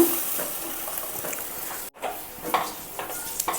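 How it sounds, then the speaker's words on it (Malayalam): Kodampuli tamarind water is poured into a simmering fish curry in a pan, a close, continuous splashing rush that breaks off briefly, then resumes with bubbling and light clinks. "പുളിവെള്ളം കോൽപ്പുളി വെള്ളം ഇതിൽ കൊഴിക്കുകയാണ്"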